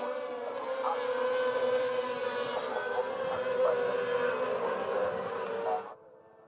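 Racing sidecar engines scream past at the Oschersleben circuit, a sustained high-revving whine that holds loud for several seconds before cutting off abruptly.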